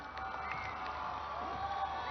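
At a formal event welcoming Pakistan's prime minister, an audience claps and cheers in a steady, somewhat distant wash of applause that continues throughout.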